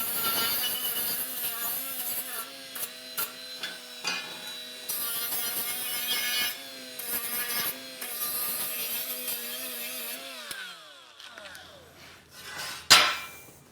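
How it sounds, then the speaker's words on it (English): A 2-inch flap disc on a Milwaukee cordless angle grinder grinds metal ends clean for a welding cart, a loud whining buzz with wavering pitch that stops and restarts several times, then spins down near the end. "I'm just using a 2-inch flap disc on the little roll-lock wheel on the Milwaukee cordless angle grinder"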